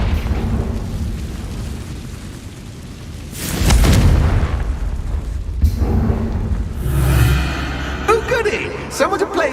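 Confringo blasting spell explosions in Hogwarts Legacy, two loud booming bursts a few seconds apart, followed by crackling magical effects, with no speech over the blasts.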